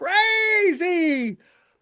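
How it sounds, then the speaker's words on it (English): A single long, drawn-out cat meow, loud and close, rising and then falling in two connected parts before fading into a brief quiet tail. "I love that cat. That's a gorgeous cat."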